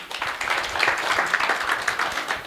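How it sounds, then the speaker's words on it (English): Applause from a breakfast-function audience at a Holiday Inn for agricultural financiers, many hands clapping steadily and fairly close for the whole stretch. "Shall we give them a round of applause?"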